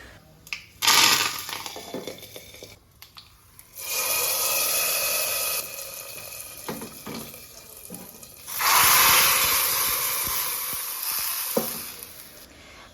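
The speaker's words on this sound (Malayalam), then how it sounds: "ഇനിയിപ്പോൾ കടുകും കരിവേപ്പിൻ്റെ ഇലയും ഉണക്കമുളകും കൂടി ഇട്ടിട്ട് അതൊന്ന് വറവിടും കൂടി ചെയ്യാം." Mustard seeds, curry leaves and dried red chillies crackle and sizzle in hot oil for a Kerala-style green gram curry, coming in two loud hissing bursts with quieter spells between.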